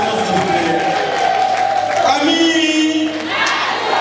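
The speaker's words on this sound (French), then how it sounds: "Sur vos applaudissements s'il vous plaît." A crowd at a union meeting breaks into loud applause and cheering, with whoops and shouting voices mixed into the dense, sustained roar.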